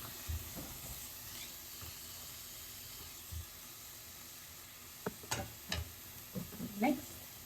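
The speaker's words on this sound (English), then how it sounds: "once the oil is heated up, we can then add in onions" Half a chopped onion sizzling in heated oil while a Thai yellow curry is cooked, a soft steady hiss with sharper crackles and sputters toward the end, faint under occasional talk.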